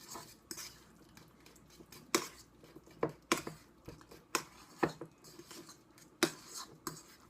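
A utensil scrapes and clinks against a bowl while guacamole is mixed with cumin and salt, in a string of sharp, irregular knocks. Quiet and close, with no talk.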